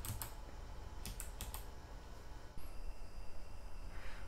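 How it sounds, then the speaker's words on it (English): Keys on a Logitech G915 low-profile mechanical keyboard are pressed and released in a few quick clicky bursts, close and fairly quiet over a soft background hiss. "You can definitely hear that the keys are being depressed and released. It has a very mechanical sound, but it's also a very pleasant sound."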